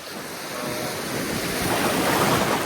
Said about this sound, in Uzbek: oldida mana shu plyaj bor